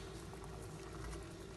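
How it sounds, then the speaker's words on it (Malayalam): A pot of drumstick leaf soup with onion and garlic bubbles at a steady rolling boil, giving a continuous, even simmering hiss with soft bubbling pops that holds at a constant level without any talk. "നന്നായിട്ട് തിളയ്ക്കുന്നുണ്ട്."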